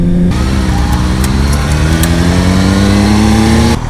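A Kawasaki ZX6R motorcycle engine revs on a test ride, one loud, steady mechanical note climbing slowly in pitch for nearly four seconds before cutting off abruptly.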